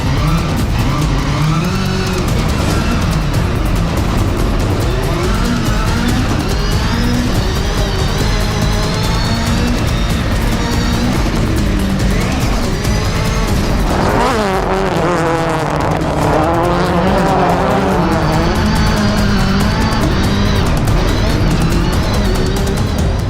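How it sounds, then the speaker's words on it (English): Rallycross race cars roar together off the start at a Nitro Rallycross event and charge into the first turn, with loud, continuous engine noise, rising and falling revs, and tire squeal close by throughout. "It's a drag race to the first turn, and Atko sends it around the outside."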